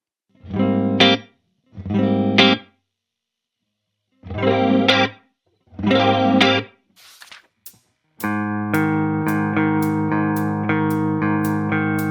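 Electric guitar played through a chorus effect pedal: four short strummed chords with gaps, then a sustained ringing chord with picked notes, shimmering and spacious, loud and close with no talking.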